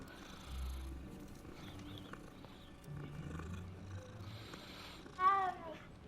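A cat in the video game Hogwarts Legacy makes a soft low rumble, then a short, clear meow near the end, set against quiet game ambience.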